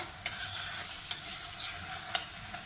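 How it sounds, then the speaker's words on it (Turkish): Mushrooms sauté in a pan while being stirred, a soft continuous sizzle broken by a few sharp scrapes of the spoon against the pan. "böyle ara ara karıştırarak kavuralım"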